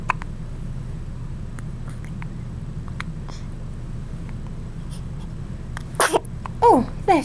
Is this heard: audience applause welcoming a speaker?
no